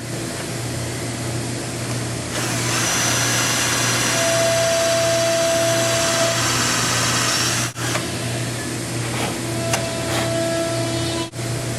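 A power drill whirs steadily with a constant motor hum, pitch shifting slightly as a 3/32-inch (2.5 mm) bit bores pilot holes for a speaker install, with a few brief clicks and pauses near the end.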